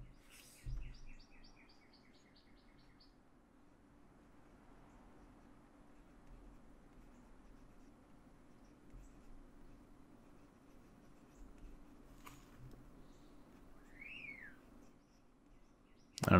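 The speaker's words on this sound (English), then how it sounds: "I don't know if you can hear the birds outside." Birds chirp faintly in the distance over a quiet room, with a short run of rapid trills early on and a rising whistled call later.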